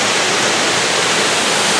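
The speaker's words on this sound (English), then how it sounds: "So yeah, cute little waterfall." Small forest waterfall pouring into a pool in Umpqua National Forest, a loud, steady rushing hiss of falling water heard close up, with no talk.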